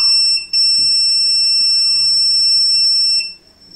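An alarm control panel powered from a 12-volt supply blares a loud, steady high-pitched electronic tone close by. It cuts out once with a brief gap, resumes, then drops away near the end.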